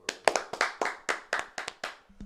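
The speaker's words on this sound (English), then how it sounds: "Let's clap it up for Beyonce." A small group claps for Beyonce in about nine distinct, evenly spaced claps, close and fairly loud, with no talking over them.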